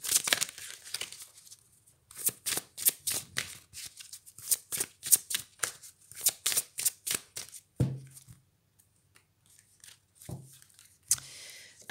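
Oracle cards shuffled for a card reading, giving a run of quick riffling bursts that are crisp and close, then briefer shuffles with a pause between them, no talking.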